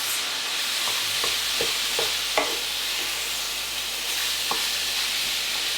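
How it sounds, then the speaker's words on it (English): Minced beef fries in a pan with a steady, loud sizzle as a wooden spoon stirs and breaks up lumps, giving occasional knocks and scrapes against the pan, close by and with no speech. "we're going to fry this until it's nice and browned"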